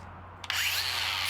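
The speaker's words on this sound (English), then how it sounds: "This is a 4-inch cup brush. It's used for power brushing, rust removal, and surface preparation." A DEWALT DCG414 60V MAX FLEXVOLT angle grinder fitted with a 4-inch cup brush spins up after a short pause into a loud, close, steady whirring roar with a rising whine for power brushing.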